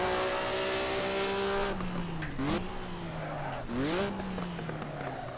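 A Maserati 250F race car lapping the Monaco circuit, its engine howling steadily then dropping and rising through downshifts into the corners, loud and close with a brief tire squeal.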